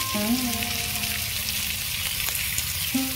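Chopped tomato and ginger paste sizzle steadily in a hot pan for a fish-head cabbage curry, a close, continuous frying hiss with faint stirring and no talk.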